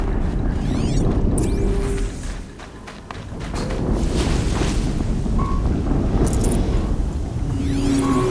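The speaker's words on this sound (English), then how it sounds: "Another explosion." A loud explosion in the video game Horizon Zero Dawn, during the Maker's End battle against the Deathbringer, heard as a dense, sustained roaring rumble that dips briefly midway and then surges back, with no talk.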